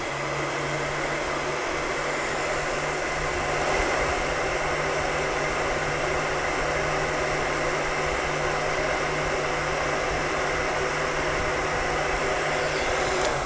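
A heat gun blows steadily and close by, shrinking heat-shrink tubing over a soldered audio cable joint, with a constant even whoosh and a low motor hum that hold for the whole stretch.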